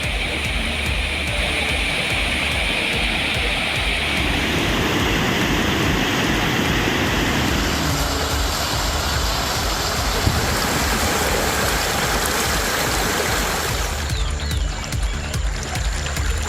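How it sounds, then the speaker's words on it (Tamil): Flash flood water pours over the Bheeman waterfall at Jamunamarathur, a loud, dense, unbroken roar of rushing water throughout. "ஜமுனாபரத்தூர் பீமன் நீர்வீழ்ச்சியில் காட்டாற்று வெள்ளம் பெருக்கெடுத்து ஓடுகிறது"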